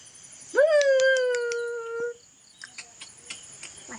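A dog lets out one long, rising then level howl lasting over a second, fairly close, followed by a few faint short yips and clicks in a quiet outdoor setting.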